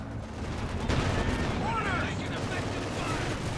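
Machine gun fire in the Company of Heroes 2 real-time strategy battle, as rattling bursts and distant artillery booms in a busy wartime soundscape, moderately quiet and blended under the game's ambient noise.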